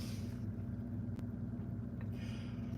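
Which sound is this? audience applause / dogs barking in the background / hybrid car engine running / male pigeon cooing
hybrid car engine running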